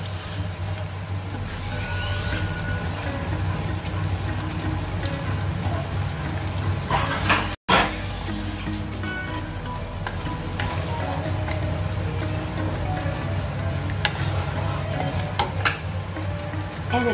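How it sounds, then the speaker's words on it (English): Thick cooked milk goes into a hot pan of sambal bean curd, setting off a loud, steady sizzle and bubbling frying sound that runs close and continuous throughout, with a brief break partway. "Add the thick cooked milk."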